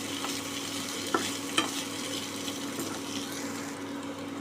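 Brinjal and radish pieces stir-frying in oil, a loud continuous sizzle with two sharp spatula knocks against the pan early on, close up and without speech.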